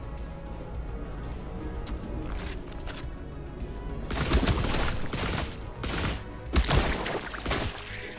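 Rapid bursts of gunfire from incendiary rounds in the video game The Last Caretaker, a quiet ambient stretch giving way to loud, dense volleys in the second half.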